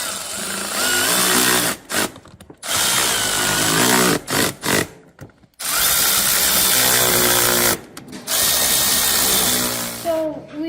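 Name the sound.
tightening bolts on a Yamaha golf cart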